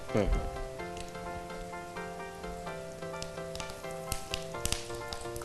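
Dried red chillies dropped into boiling dal give a steady, faint sizzle and crackle with scattered pops, running under a continuous tonal background with a louder burst at the start.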